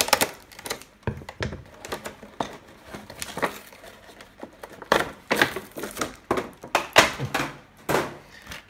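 A brittle cardboard toy package is cut open by hand, giving a string of irregular, close, sharp snips and crackles with short pauses between them.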